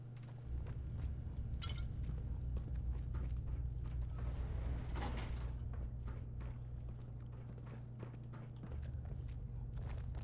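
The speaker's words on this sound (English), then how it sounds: "It sounds like footprints with shoes on." Shod footsteps of a character in the video game Fallout 4 tap irregularly over a steady low game hum, with a few sharper knocks scattered among them.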